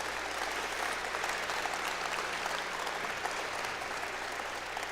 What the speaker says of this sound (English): How about a big round of applause for that awesome color guard?